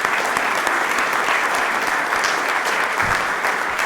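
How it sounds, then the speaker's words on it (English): An awards ceremony crowd claps in steady, loud applause that fills the room evenly for several seconds, with no voices rising above it. "round of applause for them."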